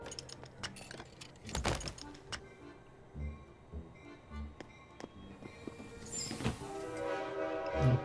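A train in the video game Irony Curtain rumbles and clatters with scattered metallic knocks and jangles, and a horn-like tone swells near the end, all moderately quiet and without speech.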